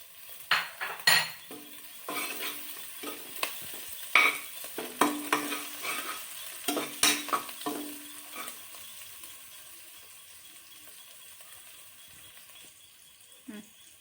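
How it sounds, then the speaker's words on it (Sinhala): Curry leaves and chopped green chilies sizzle in hot oil with ginger and garlic while making string hopper koththu, with sharp clattering stirs and pan knocks up front, fading to a softer steady fry. "දැන් මේකටම කරපිංච ස්වල්පයක්, හීනියට කපාගත්ත අමු මිරිස් එකතු කරගන්නවා."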